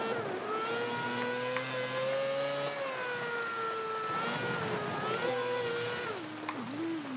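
A four-rotor racing engine swapped into a Mazda Miata, converted to four-wheel drive on rally tires in Forza Horizon, drones loudly and steadily, its pitch climbing and dipping through gear changes with a brief rev flutter near the end.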